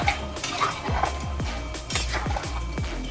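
A spoon scraping and clanking against a pressure cooker as turnips are mixed into beef curry, repeated rhythmic metallic strokes over a low background hiss.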